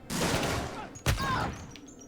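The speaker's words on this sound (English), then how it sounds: "we're getting into a gunfight, guys" Gunfire in Alien: Isolation on Nightmare difficulty: a loud burst of shots over dense in-game noise, then one sharp, heavy crack about halfway through, trailing into fading rumble and high whining tones.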